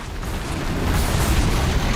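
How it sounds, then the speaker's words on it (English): A deep rumbling blast from explosions in the action game Horizon Zero Dawn, a dense broad roar swelling over two seconds. "Eat some more explosions."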